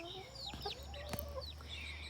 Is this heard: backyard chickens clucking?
yes